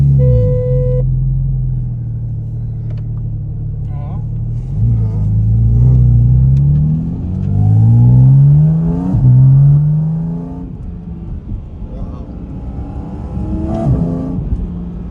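Porsche 718 Cayman GT4 RS, a 2025 track-focused car, revving hard and accelerating through several gear changes, the engine note rising and dropping in loud sweeping pulls heard from inside the cabin.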